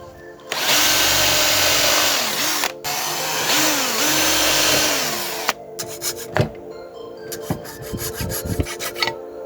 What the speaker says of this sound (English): Now I'm just going to drill out the holes